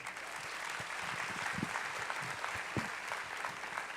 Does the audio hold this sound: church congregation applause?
yes